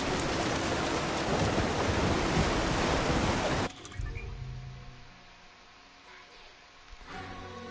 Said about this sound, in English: Oh shit, there's a river.